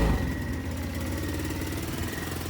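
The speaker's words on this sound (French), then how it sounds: "on donne un petit coup de gaz et on démarre" A Hytrack 170 quad's engine idles steadily after being started, a close, continuous low mechanical rumble with a faint whine running through it.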